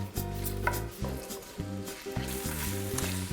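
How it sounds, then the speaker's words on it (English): Sliced fennel sautéing in a hot pan gives a steady, close sizzle and crackle, with rhythmic music playing over it throughout. "the fennel is sauteing nicely"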